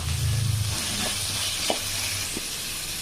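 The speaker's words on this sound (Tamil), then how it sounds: "இதெல்லாம் ஒரு 2 நிமிஷம் வதங்கினா போதும்" Vegetables and chopped green chili sauté in a pan for a paneer keema dish, giving a steady soft sizzle with faint stirring scrapes and small clicks, no voices.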